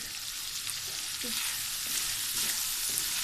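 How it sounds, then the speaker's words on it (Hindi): Peas, corn and beef mince with black pepper sautéing in a pan, a steady close sizzle and frying hiss with a few soft stirring scrapes, and no voices. "30 सेकंड के लिए हम साथ इनको अच्छे से भूनेंगे।"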